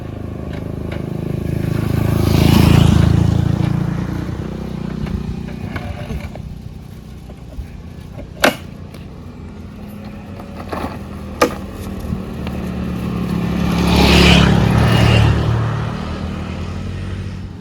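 A motorcycle that has stalled after running out of fuel gives two swells of rough, nearby engine rumble, one at the start and one near the end, with a quieter stretch and a few sharp clicks between them.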